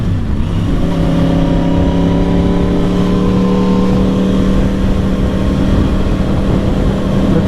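A 2010 Yamaha R1 1000cc crossplane-crank motorcycle pulling hard and loud up close, its gruff uneven engine note climbing steadily in pitch for several seconds without a break.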